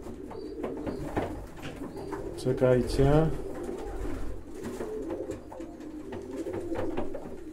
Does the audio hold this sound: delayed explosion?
no